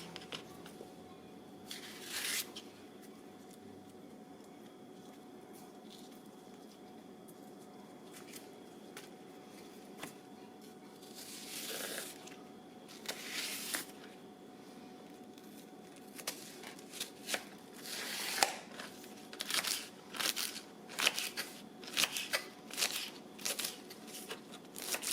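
A knife slices through leeks on a board, giving scattered crisp crunching cuts that come in bursts, growing into a quicker run of sharp chops toward the end, close and fairly quiet with no voices.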